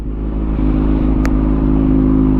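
A Kymco 550 big scooter engine warms up at idle close by, a steady low rumble with a constant hum and a faint brief click midway, no talking.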